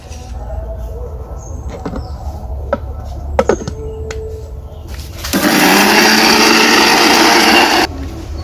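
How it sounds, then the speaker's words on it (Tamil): Fried onions are ground in a kitchen mixer grinder: a few clicks and knocks of handling, then a loud, steady whirring grind of about two and a half seconds that cuts off abruptly. "நம்ம பொரிச்சு வச்சிருக்கிற வெங்காயத்தையும் அரைச்சிக்கிட்டோம்."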